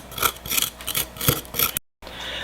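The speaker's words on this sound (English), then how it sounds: "Now I'll carve the funnel with this dental tool." A dental tool carves a funnel into a cuttlebone mold, giving close, soft scratchy rasping strokes in quick succession, then a brief cutoff and a faint hiss.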